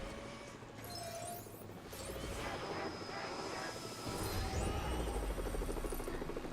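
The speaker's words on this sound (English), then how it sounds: "Jump inside the helicopter, please." A helicopter in a video game whirs steadily at moderate volume, with its rotor drone rising slightly toward the end, heard alone without talk.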